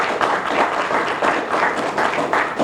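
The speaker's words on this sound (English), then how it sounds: "That deserves a round of applause right there." Loud, close applause from an audience at a business assistance program meeting, a short burst of dense clapping with slight pulsing swells.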